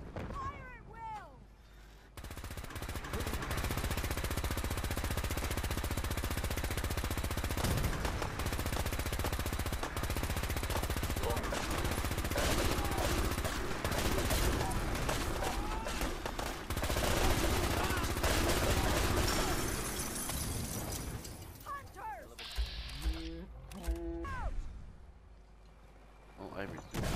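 Battle gunfire in the video game Fallout 4 Far Harbor: a long, dense barrage of rapid shots and booms that fills most of the stretch, then thins to scattered bursts with game voices shouting over it.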